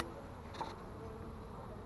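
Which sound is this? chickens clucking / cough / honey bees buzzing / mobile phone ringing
honey bees buzzing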